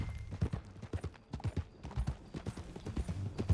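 A horse's hooves clip-clop in quick, steady rhythm while riding in Red Dead Redemption II, the dull thuds repeating close and clear with no talking.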